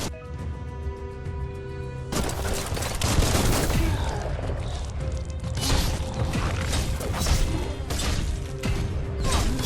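Gunfire in the video game Biomutant, a quiet mechanical start with tonal hum and then dense rapid bursts of shots and crashing impacts that continue loudly throughout.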